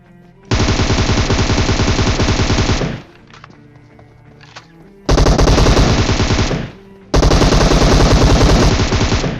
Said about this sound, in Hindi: यहाँ पे जब मैंने फर्स्ट टाइम फायर किया तो मैंने इसी बंदे के ऊपर फायर किया था